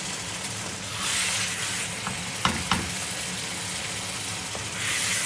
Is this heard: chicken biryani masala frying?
yes